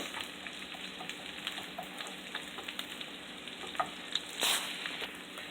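Bacon and onions sizzle steadily in a frying pan while an omelette is being made, a dense continuous crackle with scattered sharper pops and one louder spitting burst near the end.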